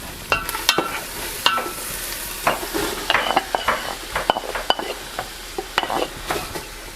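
Onions cooking down in a pot for borscht, a steady close sizzle with repeated scraping stirs and occasional utensil knocks against the pot, no voices.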